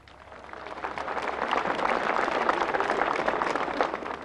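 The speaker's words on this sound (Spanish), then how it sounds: "Con un fuerte aplauso, compañeras." Applause from a crowd at a Bolivian government campaign event in Chuquisaca, a broad steady wash of many hands clapping that swells over the first second and holds loud and dense to the end.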